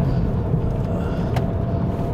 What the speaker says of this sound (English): Foot down, the car is keen enough to change, pulls nicely towards the top end of the rev range.